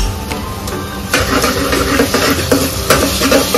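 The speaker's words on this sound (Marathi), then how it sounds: "आपण याच्यात आता अद्रक लसूणची पेस्ट टाकतोय" Ginger-garlic paste hits reddish frying onions in a pan for misal, giving a steady loud sizzle with crackling pops and a few soft stirring scrapes throughout.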